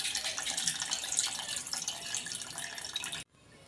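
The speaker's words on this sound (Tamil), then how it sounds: "இந்த தண்ணியை வந்து சேர்த்து வடிகட்டி எடுத்துக்கலாம்." Water is poured and strained for pani puri in a home kitchen, a steady close splashing trickle that runs continuously for about three seconds and then cuts off abruptly into quiet.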